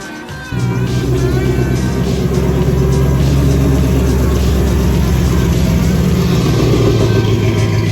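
A Ford F-150 pickup truck starts up and idles as it is moved out of a driveway, a loud steady engine drone that kicks in abruptly after a brief quiet moment and holds close by.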